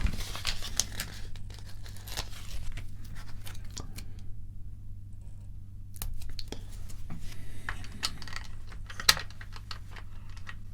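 LEGO sticker sheet being handled during a Republic tank build, a steady close crinkling and rustling of plastic backing with small taps and clicks, one sharper snap near the end, no talking.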